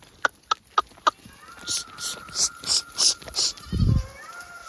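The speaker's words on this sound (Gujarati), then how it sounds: "છ ની માથે થઈ ગયા એટલે મોરલો બોલી ગયો" A peacock calls on a farm where goats are kept, giving a run of about seven loud, evenly spaced high cries after a few sharp knocks, with a low thump near the end.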